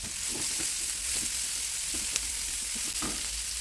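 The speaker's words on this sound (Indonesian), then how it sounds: "Kita mau tumis bumbunya." Ground spices and ten sliced shallots sauté in margarine in a hot pan, giving a steady, close, loud sizzle with occasional stirring scrapes and no talking.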